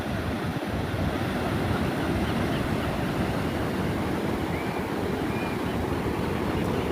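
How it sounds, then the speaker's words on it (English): Ocean waves wash in steadily over the rocks at low-tide pools in La Jolla, California, a constant hiss and rumble of surf with some wind noise on the microphone. "Here comes some waves, so you see the water washing up."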